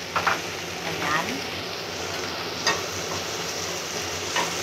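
Garlic and a little tomato sautéing in a pan, giving a continuous sizzle and fry with a few sharper stirring scrapes, close by.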